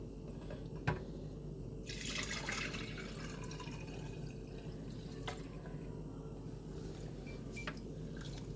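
Homemade coconut milk is poured out in a batch of about one and a half liters, a quiet, continuous trickle and splash of liquid with a sharp click near the start and faint drips throughout.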